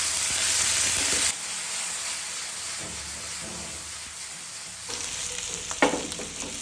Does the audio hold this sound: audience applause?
no